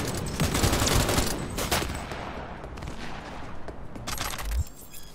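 Smart ricochet weapons in the game CyberSpunk 2069 fire in a dense, sustained barrage at moderate volume, with crackling bursts that swell and fade over several seconds.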